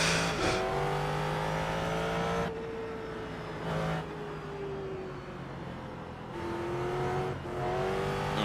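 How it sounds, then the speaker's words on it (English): A Ford GT3 race car drifts through corners at Sonoma, its engine droning steadily at high revs with pitch shifts as it brakes and accelerates, loud and close throughout, with no talking. "That's how you drift those corners."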